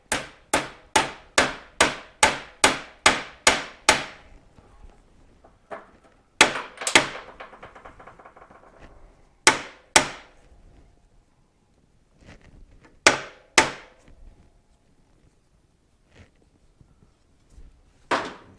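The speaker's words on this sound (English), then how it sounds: "Got a copper hammer here so I don't damage it." A rapid series of sharp metallic copper hammer strikes on a Suzuki TS250 motorcycle frame, then scattered single blows with pauses between, close and loud.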